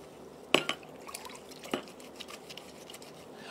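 A handkerchief is rubbed and washed by hand in a bowl of water with no detergent, giving soft wet swishing with a couple of sharper splashy knocks early on, quiet and without speech.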